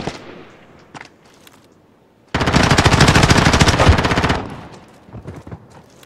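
A P90 submachine gun fires in a video game in one long, rapid burst of about two seconds, loud and close, after a few scattered quieter shots, with more faint pops following.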